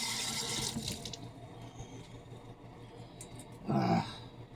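Tap water runs briefly near the start to wet an egg, then a quieter stretch follows before a short, louder gush of water near the end.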